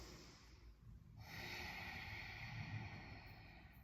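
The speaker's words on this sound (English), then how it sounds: "if you hear people in yoga breathing like this" A yoga teacher demonstrating Ujjayi breathing: a soft, constricted, oceanic breath, a brief rasp followed by a longer steady hissing exhale at close range, quiet and alone.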